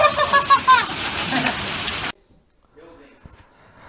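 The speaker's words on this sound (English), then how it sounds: "Look at all this hail." Hail falls during a severe thunderstorm in a loud, dense clatter for about two seconds with voices over it, then the sound cuts off sharply, leaving a quiet stretch with faint movement.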